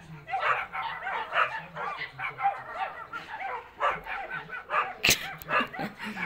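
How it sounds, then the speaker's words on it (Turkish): Several small dogs bark and yip in rapid, overlapping bursts, fairly close, with people talking underneath. "Kendilerinden büyük köpeklere havlıyorlar ya."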